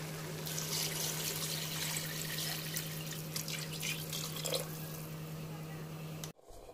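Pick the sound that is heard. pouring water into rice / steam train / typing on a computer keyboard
pouring water into rice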